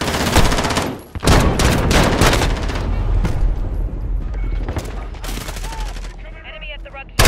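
Call of Duty: Modern Warfare headquarters-mode gunplay in a cave, with loud, sustained automatic gunfire in dense bursts and a brief lull near the start. The firing ends with a short spoken line from the game.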